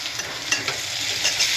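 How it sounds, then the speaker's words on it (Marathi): Medium-sized potato pieces stirred into hot oil in a pan for a potato curry, giving a close, bright sizzle with quick scraping stir strokes over a short stretch and no talking. "त्याच्यामध्ये आता आपण बटाटा ॲड करूया चांगलं मिक्स झालेलं आहे ते तेल सुटलेलं आहे"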